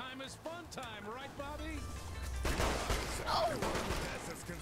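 Pistol gunfire in the Saints Row 3 video game, a dense, loud rattle of shots starting midway, preceded by voices talking and partly layered under them.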